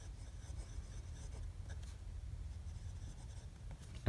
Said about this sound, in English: please excuse my handwriting. I'm writing